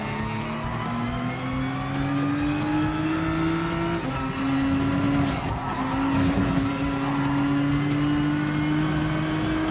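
Race car engine at full throttle in Gran Turismo Sport, a loud steady whine rising in pitch through the gears with a brief shift dip, plus faint tire squeal, continuous and close.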